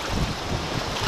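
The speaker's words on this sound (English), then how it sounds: "A little bit windy conditions here at Lacine Power Plant" Steady wind buffeting a microphone while crappie fishing at Lacine Power Plant, a constant low rumble and broadband rush with slight gusty swells throughout, no voices.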